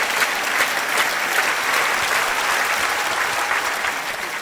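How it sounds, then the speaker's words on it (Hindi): Steady, dense applause from an audience at a talk with a UPSC 2023 topper, filling the whole stretch at an even, fairly loud level without a break. "ताली बजाइए जोर से।"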